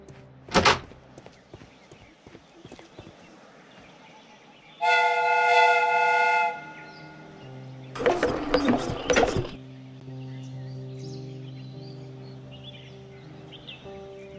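A replica train in the video game Sherlock Holmes Crimes and Punishments gives a sharp clank, then a steady horn blast of about two seconds, a burst of rattling metallic clatter and a low, continuous running rumble afterward.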